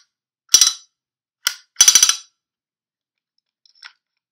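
HK USP gas blowback pistol dry firing, giving a few sharp metallic snaps: a single crack, a pause, then a quick cluster of rattling clacks, and a faint click near the end, with no other sound between them.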